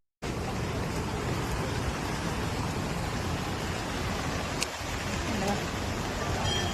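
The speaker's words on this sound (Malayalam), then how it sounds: "പക്ഷെ നല്ല മഴയാണ്" Steady rain falling around someone walking back from a temple in the evening, a dense even hiss of close rainfall with no talk over it.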